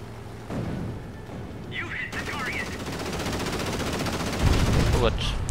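Aircraft guns fire in World of Warplanes as a rapid, sustained machine-gun rattle, steady and fairly loud, with someone talking over the start of the burst.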